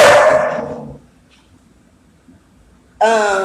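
A small puppy gives a short burst of yappy barks at the start, then near silence, then another bright bark burst at the end, close and fairly loud.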